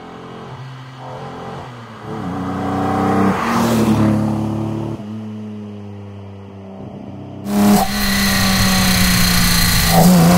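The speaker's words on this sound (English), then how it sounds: "You hear the Webers, you hear the big bore exhaust." A 1965 Jaguar E-Type Series 1 with a 4.2 engine, Weber carburetors and big-bore exhaust, heard from on board as it revs and accelerates through several gear changes, with a loud, rising engine note and clear shift breaks.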